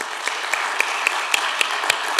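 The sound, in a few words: applause, audience clapping hands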